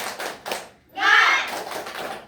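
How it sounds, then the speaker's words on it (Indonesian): A classroom of children claps the rhythmic 'tepuk semangat' cheer during a micro-teaching lesson, a short burst of hand claps mixed with young voices chanting, close and lively. "Ayo, tepuk semangat"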